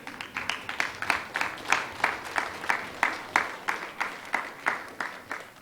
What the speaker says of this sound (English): give your parents and family a round of applause